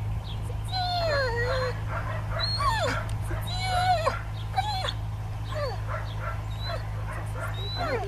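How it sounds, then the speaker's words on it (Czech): During protection work training a dog gives yipping, whining bursts and sharp barks, fairly close, against a steady low hum, with people's voices mixed in. "Tomu pustím psa na vás."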